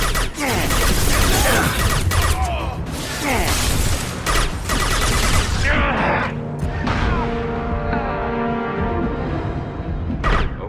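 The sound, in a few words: gunfire from Blue Suns and Vorcha in a video game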